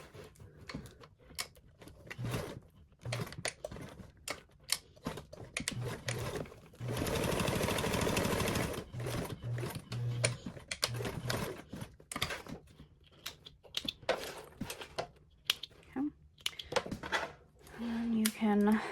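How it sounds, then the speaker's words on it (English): A sewing machine stitches a final row at a 1/8 inch seam allowance, running in short bursts with one longer steady run in the middle, among clicks and handling noises, with occasional speech. "make our last row of stitches at our 1/8 seam allowance to once again close in that seam"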